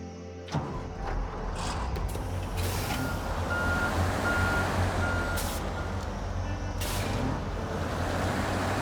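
A truck in a truck video game being parked, with a steady engine rumble under a short burst of repeated reversing beeps and hissing air-brake releases, no talk.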